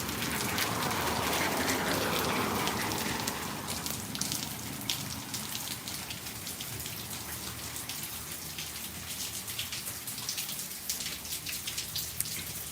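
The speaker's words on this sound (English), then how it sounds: "It's actually a gentle rain." Gentle rain falling outdoors, a dense continuous patter of drops that starts slightly heavier and settles into a steady, even hiss throughout.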